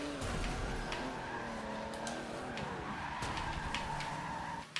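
A car skids with tires squealing in Forza Motorsport 7, a loud sustained screech over a racing engine that carries on for several seconds before breaking off abruptly.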